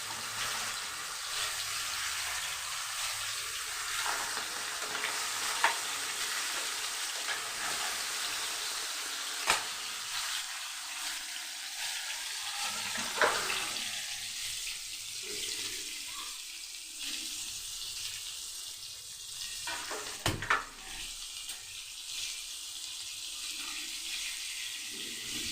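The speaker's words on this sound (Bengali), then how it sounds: "রুই মাছগুলো আগে ভেজে নেব।" Marinated rohu fish pieces, seasoned with salt, turmeric and chili powder, sizzling in hot oil in a kitchen, a faint, continuous hiss and crackle with occasional soft pops and clinks.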